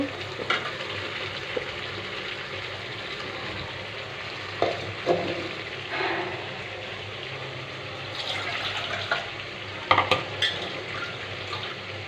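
Boiled potatoes dropped into a hilsa fish curry with vegetable stalks frying in plenty of oil, giving steady sizzling with scattered clatters and stirring bumps of a utensil in the pan, close up with no talk.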